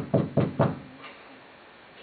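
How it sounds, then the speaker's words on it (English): Three loud, close knocks on a door in quick succession, with a quiet pause afterward and a faint fourth tap at the end. "keep knocking"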